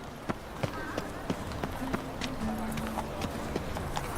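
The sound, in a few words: horse Roach galloping in The Witcher video game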